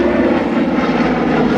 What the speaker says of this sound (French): C'est un avion extrêmement fiable, le DC-3, facile à entretenir.